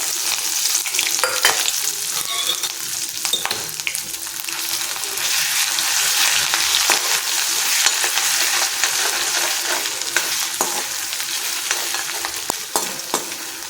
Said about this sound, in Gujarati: દસથી પંદર સેકન્ડ આપણે એને સાતડી લઈશું